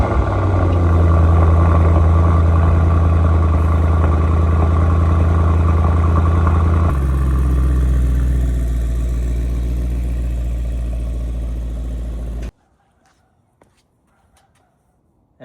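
Car engines idle and run as vehicles are repositioned beside a 200k-mile Mercedes E55, a loud, steady low rumble that shifts in pitch midway and then fades before cutting off to near silence.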